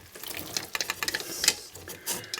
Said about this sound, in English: now we're going to pour it into the sauce